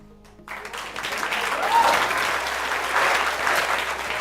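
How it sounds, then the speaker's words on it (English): A live audience bursts into applause after a volunteer reads from an envelope on stage, the clapping swelling quickly and holding steady and dense. "Huge round of applause for her."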